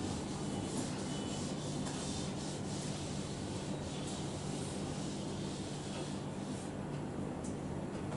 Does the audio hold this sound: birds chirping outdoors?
no